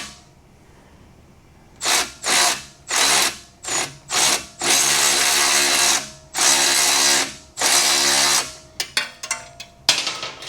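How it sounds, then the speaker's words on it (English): A power drill whirs in a series of short bursts, then one longer run, followed by a few clicks and taps, loud and close, during repair work on a diesel BMW X5. "Isn't Power Tools great?"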